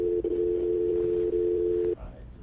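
A steady telephone dial tone sounding loud and alone for about two seconds after a radio call-in caller disconnects, then cutting off into faint background noise.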